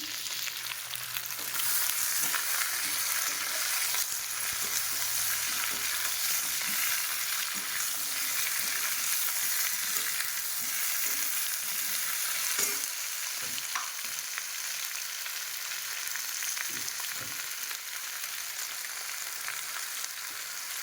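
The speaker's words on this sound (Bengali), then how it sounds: "এইভাবে ভালো করে একটু কষিয়ে নিতে হবে, ভালো করে ভেজে নেবো একদম লাল লাল করে" Food frying and being stirred in a pan on a gas stove, browned well: a steady close sizzle with scattered scraping stirs throughout, no talking.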